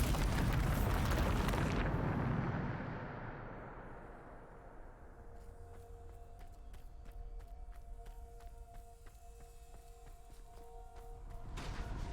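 Bombarda spell explosion in the Hogwarts Legacy video game, a loud close blast that rumbles and decays over a few seconds, followed by quieter debris crackles and game ambience.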